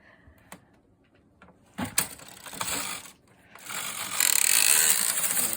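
A Brother standard gauge knitting machine carriage sliding across the needle bed knitting plain rows, a few clicks and a mechanical rattling sweep followed by a longer, louder whirring run, close up.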